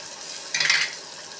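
Ground paste stirred in hot oil in a pan for dry prawn thokku, a short burst of sizzling and scraping rising above a low kitchen background, with no voices.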